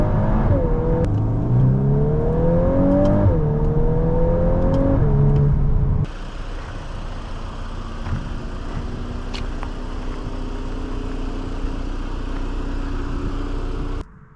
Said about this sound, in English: Today we are driving a 2024 Golf R with the 10-speed automatic.